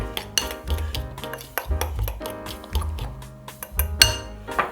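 Carbonara mixture of egg and cheese whisked in a bowl, giving quick rhythmic clinks and liquid slaps of the whisk against the bowl, close and steady with no talk.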